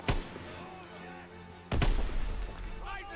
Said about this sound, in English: I can't see because everyone keeps throwing grenades.